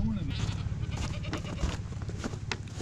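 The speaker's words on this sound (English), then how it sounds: "Going to feed the goats." Goats on a farm bleating around feeding time, several calls mixed in with a person talking nearby.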